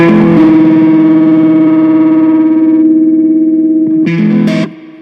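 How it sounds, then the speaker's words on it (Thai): Electric guitar through a vintage Boss OS-2 pedal turned toward distortion, a long sustained saturated chord ringing loud and up close, then a short final strum before cutting off. "ถ้าเราเริ่มเปิดไปปุ๊บมันจะสกู๊ปเสียงกลางออกให้กลายเป็นดิสโทชันนะครับ"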